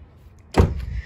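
The door handle of a 1995 Toyota Corolla is pulled and the car door opens, giving one sharp, close mechanical clunk after a quiet moment, with a short rattling tail.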